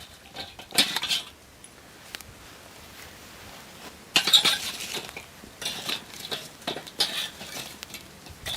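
Metal tool scrapes and rakes coals to one side inside a smoker grill, making irregular gritty scraping and clinking bursts separated by quieter pauses.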